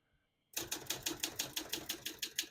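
Keys strike steadily on a 1964 Olympia SM9 portable manual typewriter, about a dozen crisp, loud, evenly spaced clacks after a moment of quiet.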